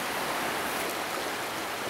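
Swollen creek water after storms rushes in a steady broadband hiss, a continuous close wash with no breaks and no voices.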